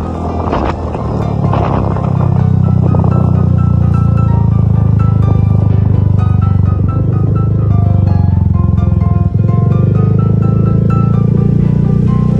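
A motorcycle engine revs hard on a muddy trail, rising from a sputtering start into a loud, sustained drone that wavers as the rider holds the throttle.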